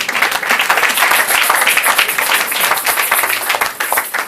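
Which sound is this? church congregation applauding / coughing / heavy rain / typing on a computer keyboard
church congregation applauding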